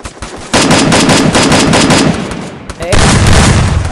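Rapid video-game gunfire rattles in loud, dense automatic bursts, a long volley broken by a short pause before firing resumes.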